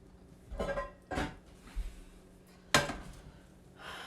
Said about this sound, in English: I need to get my veggies going in the pan